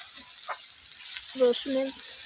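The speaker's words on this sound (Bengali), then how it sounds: "পেঁয়াজটা একটু ভাজা ভাজা হয়ে আসছে" A soft, steady hiss of onions frying in a pan, with a couple of brief vocal sounds near the end.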